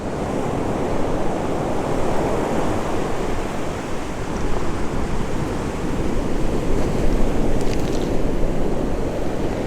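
Surf breaking on a West Sussex beach, a loud, continuous roar of waves with gusty wind buffeting the microphone, swelling slightly toward the end, no voices.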